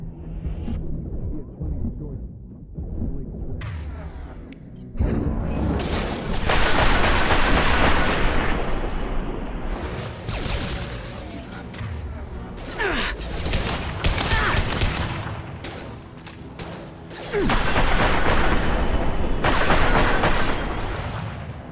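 Sustained bursts of rapid gunfire from the video game Mass Effect Legendary Edition, loud volleys and explosions with brief lulls, voices talking in between.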